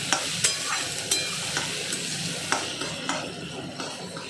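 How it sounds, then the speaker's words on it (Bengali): Onions fry with a steady sizzle in a pan while a utensil stirs them, its scrapes and clinks landing at irregular intervals, close and fairly loud with no voices. "পেঁয়াজটা একটু ভাজা ভাজা হোক"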